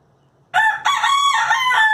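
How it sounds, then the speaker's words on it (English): A backyard rooster lets out a single loud, close crow, a sharp rise that stretches into a long drawn-out call over faint background quiet. "So, I have chickens."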